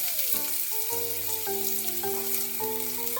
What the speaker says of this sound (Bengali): রসুনটা ভাজা হয়ে গেছে, এবার এতে পেঁয়াজ কুচিগুলো দিয়ে দেব।